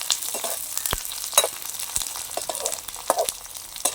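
Dried fish sizzles and crackles in hot oil, with irregular pops and spits over a steady frying hiss.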